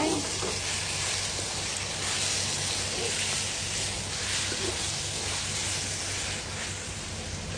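Andhra chili chicken with ground black pepper fries hard in a pan, producing a dense, loud, unbroken hiss close up, almost like heavy rain, with faint stirring beneath.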